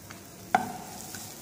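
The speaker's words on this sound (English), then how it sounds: "Mix well together." Onions are mixed in a pan over heat, giving a quiet sizzle with one sharp utensil clink near the middle and a fainter one shortly after.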